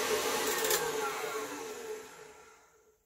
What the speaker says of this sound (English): So now I'm going to add the dark brown sugar